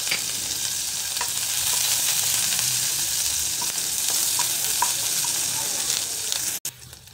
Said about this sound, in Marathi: तेल तापलेले, त्यामध्ये मिरची घालायची